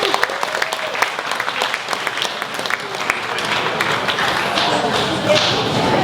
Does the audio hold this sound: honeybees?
no